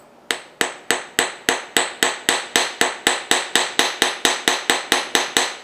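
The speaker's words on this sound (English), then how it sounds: "you will grab your hammer, and you're just going to lightly hammer." A hammer lightly striking a wire jump ring on a metal block, about twenty sharp ringing taps in a steady even rhythm, close and alone with no talking.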